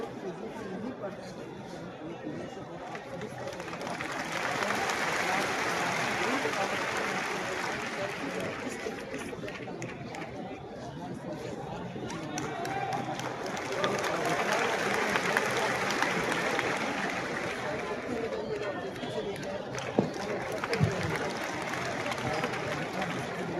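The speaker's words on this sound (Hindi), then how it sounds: "एक बार इनके लिए भी जोरदार तालियां होनी चाहिए आप सभी।" At a seminar, a large audience gives two long swells of applause and crowd noise, rising and fading over about twenty seconds, mixed with chatter and speech.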